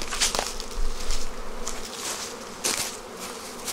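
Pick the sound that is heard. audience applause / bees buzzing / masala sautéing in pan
bees buzzing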